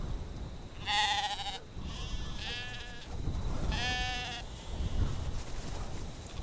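Sheep out in the open countryside of Easter Island bleat several times, with loud, wavering cries close by over a steady rough outdoor background.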